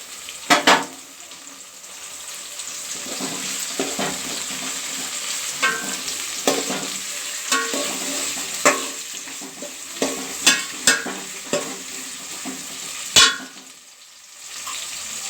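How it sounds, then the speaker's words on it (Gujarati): Tomatoes hit sautéed onions in a pan and sizzle steadily while a spoon stirs and clinks against the metal in scattered scrapes and taps, with no voices. "હવે આપણે એમાં ટમાટા એડ કરીશું।"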